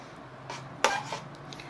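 A utensil stirs a pot of chicken nilaga soup, making one sharp metallic clank against the pot amid faint soft scraping, close and alone.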